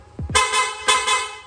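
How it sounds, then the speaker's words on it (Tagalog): Loud aftermarket horn on a Yamaha NMAX 155 scooter blares in two close blasts, a short honk followed by a longer sustained tone, then another loud burst, with no talking. "Sir, pa-activate naman ng loud horn."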